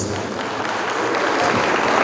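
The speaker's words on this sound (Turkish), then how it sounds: "Kuvvet alkışlarla onu uğurluyoruz." Audience applause at a stage event, a steady wash of clapping from a crowd that holds at an even, moderate level throughout.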